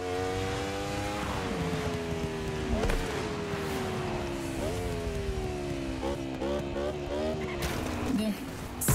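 Red Bull motorbike racing in The Crew Motorfest video game: a steady, loud engine whine climbs and drops through repeated gear shifts, with brief tire skids and scrapes over continuous racing noise.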